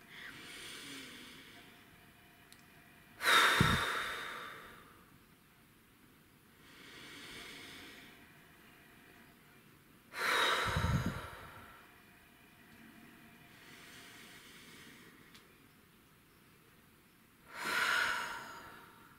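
Deep breathing exercise with three slow cycles: each strong nasal inhale comes close and loud, followed by a softer, longer exhale, spaced several seconds apart over a low steady room hum.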